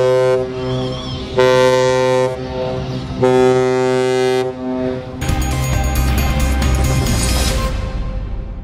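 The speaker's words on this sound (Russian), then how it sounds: "Завершается шествие протяжными гудками сирены." Cargo ships decorated with national flags sound long horn blasts to close a harbor parade: several loud, sustained tonal blasts in sequence, then a dense overlapping chorus of horns that fades at the end.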